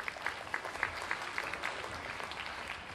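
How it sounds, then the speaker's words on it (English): Faint, distant applause at a primary school instrumental concert for a Year 6 saxophonist. A rhythmic patter of claps, fairly even and steady, fades slightly toward the end. "A big round of applause again for Year 6 saxophonist."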